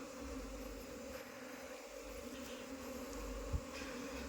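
Apis cerana honeybees hum steadily around a hive box during a colony transfer, a continuous close buzzing drone with no voices.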